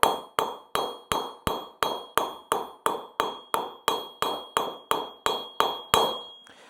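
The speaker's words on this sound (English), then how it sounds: "I'm lifting the hammer up, and then I'm dropping the hammer down." Hammer repeatedly striking a silver ingot on a billet, about eighteen evenly spaced sharp metallic blows with a ringing tone, close and loud, alone without speech.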